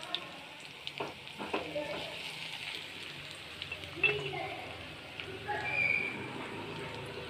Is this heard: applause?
no